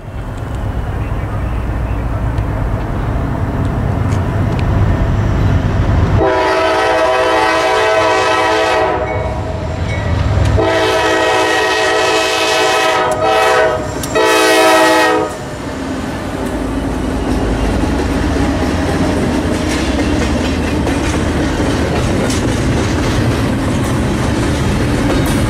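Norfolk Southern freight train NS-221 rumbles past near Beaumont Junction, sounding its horn in several long blasts over a steady rolling clatter of wagons that carries on after the horn stops.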